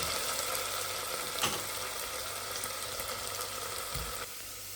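Onion frying in a pan before rice goes in, a steady close sizzle and crackle with no talk over it.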